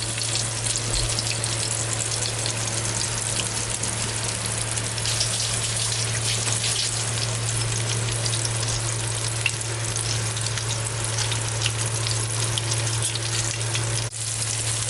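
Masala-coated fish fries steadily in a pan of hot oil, giving a continuous loud sizzle and crackle with no voices over it.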